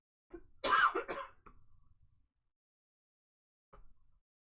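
A woman coughs nearby in a quiet room, a burst of several harsh coughs followed by a throat-clearing rasp, then a single short cough after a pause.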